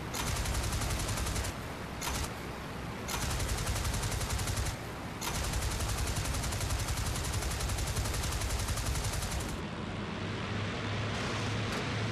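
Aircraft machine guns hammer out in IL-2 Great Battles, a WW1 Bristol F2B against a WW2 Hurricane, in long loud continuous bursts broken by a few short pauses and a sudden cutoff near the end.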